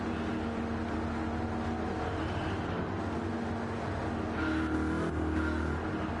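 A supercharged race car in Gran Turismo 7 accelerates on the Daytona oval with a sustained, steady engine whine and tonal drone that rises in pitch toward the end, heard alone.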